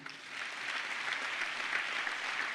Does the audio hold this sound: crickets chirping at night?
no